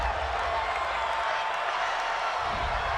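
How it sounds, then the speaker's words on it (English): Simulated home stadium crowd in a Madden NFL football game, Chiefs at Lions, a steady loud wash of cheering and roar with scattered claps, filling the whole moment without pause. "This home crowd, they're happy with that call."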